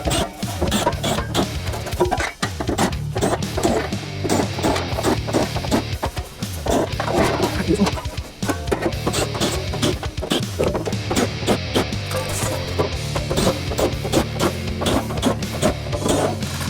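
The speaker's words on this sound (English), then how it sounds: "now I've got a 6-flute countersink here, which we're going to use to deburr the front and the back side of those holes" A 6-flute countersink deburrs the front and back of drilled holes in a 1966 GMC inner fender, producing a dense, continuous rattling grind that stays close and loud with only brief dips.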